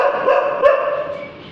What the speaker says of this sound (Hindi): फिर बन के भौंक रहा है तो देख कैसे भौंक रहा है